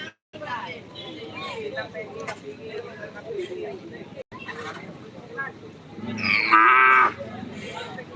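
Cattle at a karapan sapi bull race, with a loud, close moo near the end rising over a busy background of people talking and crowd babble.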